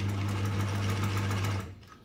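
Sewing machine stitching a pocket on work shorts, a loud steady mechanical hum with rapid needle clatter running continuously for about a second and a half before it cuts off and fades.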